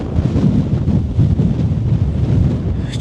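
Strong wind buffets a microphone at Meteor Crater in Arizona, a loud, close low rumble that churns and gusts without letup.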